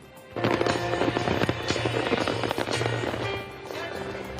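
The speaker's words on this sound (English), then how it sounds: "ended with a massive fireworks display over the nation's capital." A massive fireworks display over Washington, D.C. bursts in dense, rapid crackling and popping, loud and sustained before easing slightly near the end, with a crowd murmuring underneath.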